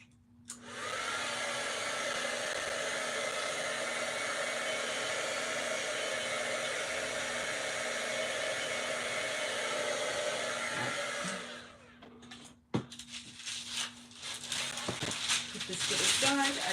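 A dryer runs as a steady, loud whoosh for about eleven seconds while craft pieces are dried, then shuts off and gives way to handling noises and rustling.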